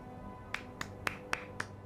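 One person claps hands six times at an even, unhurried pace, close and crisp against a quiet background with a faint steady hum.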